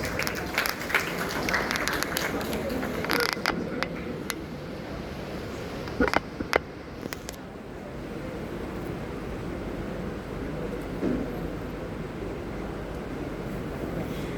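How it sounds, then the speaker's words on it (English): An audience applauds at a college cake-cutting ceremony, with loud, dense clapping that includes a few sharper claps before easing into a softer, steady patter. "Kindly welcome them with a resounding round of applause."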